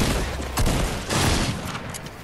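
Gunfire in a Fortnite Bounty Royale match, loud bursts of rapid shots and impacts in two main volleys over a dense, noisy battle bed with no talking.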